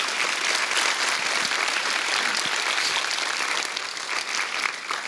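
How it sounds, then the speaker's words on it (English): An audience at a youth health awards evening claps steadily for the award winners, a dense, sustained round of applause filling the room without a break. "So could we just give a last round of applause to all of our award winners tonight?"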